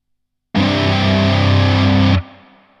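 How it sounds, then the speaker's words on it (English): An electric guitar played through a Rodent drive pedal model on a Quad Cortex rings out as one loud, distorted sustained chord of about one and a half seconds, then is cut short, leaving a faint decaying tail. "bring in this second drive, which is the rodent drive on the QC"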